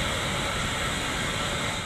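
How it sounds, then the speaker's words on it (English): Natural gas roaring out of a punctured pipe on a closed city street, a steady, loud broadband hiss that holds unbroken and close throughout with no voices. "Officials say what you're hearing is the sound of natural gas shooting out of a punctured pipe."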